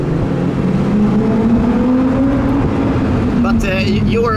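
A Lamborghini Huracán drives past on a road with a rising engine tone that sweeps upward and fades. It sits under loud, continuous wind or cabin rumble, and a voice briefly exclaims near the end.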